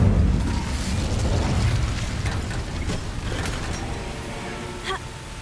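A fire spell cast in Hogwarts Legacy bursts into a loud, roaring whoosh of flame that rumbles steadily for several seconds and slowly fades, with a small crackle near the end.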